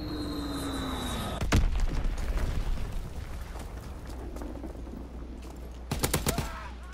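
Explosive blasts and gunfire in a WW2 shooter game, with a sharp loud boom near the start, then continuous rumbling battle noise and a second cluster of rapid bursts near the end.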